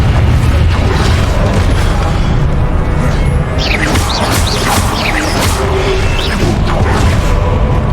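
Spell blasts from Confringo casting in Hogwarts Legacy, loud booming bursts and whooshing magical impacts layered over a dense, continuous battle din with swishing streaks, no speech.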